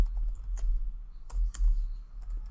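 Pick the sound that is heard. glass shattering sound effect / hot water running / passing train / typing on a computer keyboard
typing on a computer keyboard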